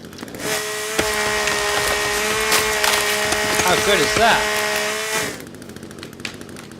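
A chainsaw in the survival video game The Forest runs steadily for about five seconds while cutting wood, a loud sustained buzzing drone with pitch wobbles, then cuts off abruptly; a voice speaks briefly near the end.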